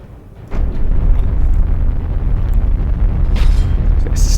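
Heavy booming weapons fire and explosions from a Battlefleet Gothic Armada space battle begin abruptly and then roll on as a loud, dense, sustained rumble, with sharper bursts toward the end.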